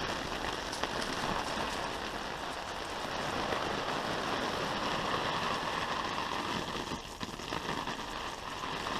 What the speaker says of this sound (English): That's really heavy rain right there.